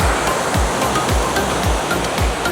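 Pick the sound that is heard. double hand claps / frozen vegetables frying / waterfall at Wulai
waterfall at Wulai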